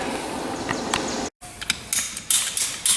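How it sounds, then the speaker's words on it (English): PVC pipe cutters snipping through fertilizer hose on a farm: a few short clicking, ratcheting crunches close up over a steady background hum, with a brief silent gap midway. "What Bob's using, they're actually a set of cutters for PVC, but they work dang good for cutting this fertilized hose"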